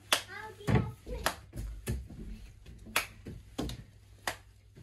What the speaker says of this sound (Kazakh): Шапалақпен.